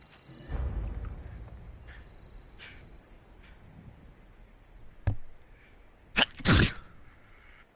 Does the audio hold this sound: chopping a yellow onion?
no